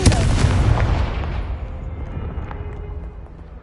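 Confringo blasting spell fired in Hogwarts Legacy, a loud booming explosion at onset that rolls off into a long fading rumble over about three seconds.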